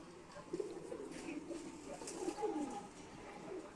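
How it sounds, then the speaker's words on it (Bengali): Racing pigeons coo in soft, low, rolling calls that repeat close by as they return from a 40 km toss, with faint background noise underneath. "এই যে আরো এক কবুতর চলে আসলো"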